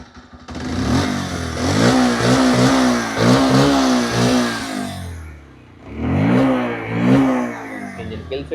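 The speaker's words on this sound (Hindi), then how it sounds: "एग्जॉस्ट नोट सुनो।" A Bajaj Pulsar 125 motorcycle engine is blipped repeatedly from idle. Each rev makes its exhaust note rise and fall, loud and close, and after a short lull near idle another pair of revs follows.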